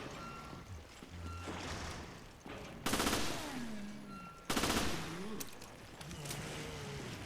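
Bursts of gunfire from the Resident Evil Revelations video game, two sharp loud volleys standing out over a steady backdrop of game music and ambience, with rapid repeated shots and falling pitched tones after each burst.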